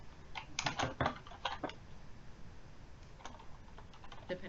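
Typing on a computer keyboard, a quick flurry of close key clicks followed by sparser, softer taps, with no talking.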